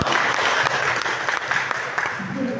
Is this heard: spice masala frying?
no